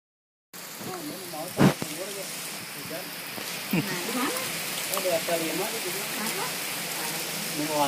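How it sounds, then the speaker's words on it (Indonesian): Rain falls steadily in open farmland during bad weather, a constant soft hiss with occasional louder drops, while a voice talks intermittently over it. "Mau pulang, hujan, hujan, hujan,"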